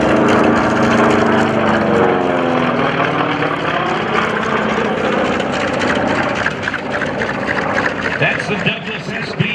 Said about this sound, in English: That's the Douglas SBD Dauntless.